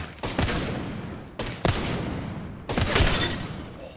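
Bursts of gunfire in the video game Apex Legends, three loud volleys of rapid shots separated by short gaps, close and dominant with no talking.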